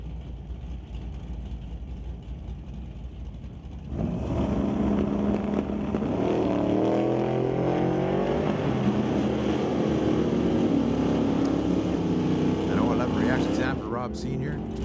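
A 1931 Model A hot rod launches hard at a drag strip, its engine note jumping abruptly to a loud, sustained roar with rising gear-change sweeps over steady race-day crowd and track background.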